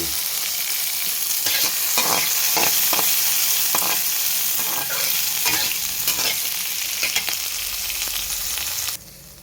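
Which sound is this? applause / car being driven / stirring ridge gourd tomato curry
stirring ridge gourd tomato curry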